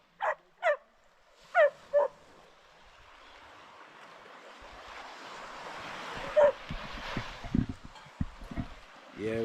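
A dog on a hurricane-hit island gives several short, clear barks near the start, then whimpers faintly under wind and surf-like rumble while people talk nearby.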